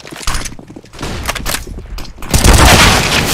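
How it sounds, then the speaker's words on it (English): A flashbang grenade going off in a video game amid close, harsh bursts of gunfire and clatter, ending in a loud, sustained ringing blast, with no talk. "Throwing flashbang."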